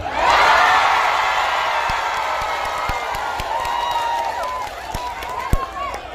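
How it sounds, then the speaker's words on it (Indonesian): A crowd claps and cheers loudly at an Indonesian Islamic sermon gathering, sustained applause with whoops rising at the start, then continuing steadily with scattered sharp claps. "Yang terakhir harus kenceng tepuk tangannya"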